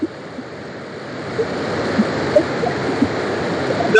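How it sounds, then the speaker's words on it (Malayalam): Water released from Neyyar Dam in Thiruvananthapuram, Kerala, rushes through sluice gates into two canals. It makes a loud, continuous roaring wash that swells slightly over a few seconds. "നെയ്യാർ ഡാമിൽ നിന്ന് വെള്ളം തുറന്നു വിട്ടിട്ടുള്ള 2 കനാലുകളിൽ സ്ലൂയിസ് ഗേറ്റിൽ നിന്നാണ് കാണുന്നത്"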